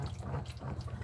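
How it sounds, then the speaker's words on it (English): Water rushes steadily from the electric flush of a toilet in a caravan bathroom, a continuous close hiss and gurgle with no talk. "Electric flush on the toilet."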